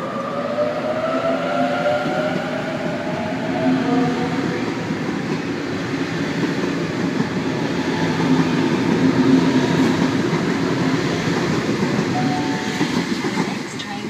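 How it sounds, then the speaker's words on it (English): Sydney suburban train pulling away from platform 2 at Pennant Hills station, a steady rumbling and rolling roar with faint wheel clatter that holds fairly loud and even throughout, with a bit of background station noise. "Barara service now departing platform number 2."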